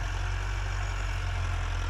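A stationary tractor engine idles nearby in a farm field, a steady low rumbling hum that stays constant and unbroken with no voices.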